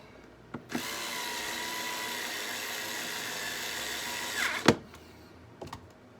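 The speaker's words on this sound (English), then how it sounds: "Sounds like my drill might be getting a little tired here." A power drill whirs steadily for several seconds with a strained, laboring tone while working on a Dell Latitude 5420 Rugged laptop, then spins down amid a few sharp clicks and knocks.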